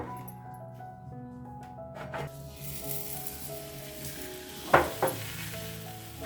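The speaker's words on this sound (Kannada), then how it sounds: "ಇದನ್ನು ಹೈ ಫ್ಲೇಮಲ್ಲಿ ಈ ಥರ ಎಣ್ಣೆನ ಹಾಕಿಬಿಟ್ಟು ಬೇಯಿಸ್ಕೊಳ್ಳೋಣ" Thin rolled urad dal flatbread fries in oil in a pan on a high flame, a soft steady sizzle that swells after a moment, with a couple of sharp pan clatters and no talking.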